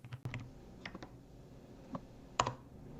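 A few scattered keystrokes on a computer keyboard as the drug name Panadol is typed, sparse close clicks with a sharper tap near the end over a quiet background, and no speech.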